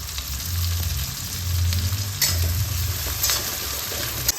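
Chopped onions, about 250 grams, fry in oil for a Bengali Bombay duck jhal chorchori, a close steady sizzle punctuated by scraping stirs and a sharp clink at the end, no voices.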